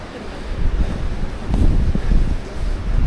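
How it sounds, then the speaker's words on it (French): Strong wind of around 60 to 70 km/h roars steadily across the microphone as low, rumbling gusts inside an abandoned retirement home, with no talking. "c'est à cause du vent. On n'est pas loin de 60 à 70 km/h de vent."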